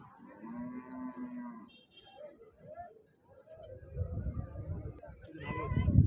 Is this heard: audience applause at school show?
no